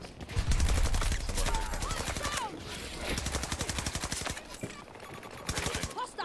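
Rapid gunfire in a video game rattles out in fast, steady bursts of closely spaced shots, loud and near, running through nearly the whole stretch with short pauses.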